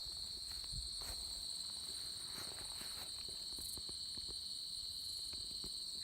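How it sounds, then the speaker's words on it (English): Steady, high-pitched chirping of crickets fills a chestnut orchard continuously in late September, with faint rustling and soft thumps underneath. "Crickets are singing."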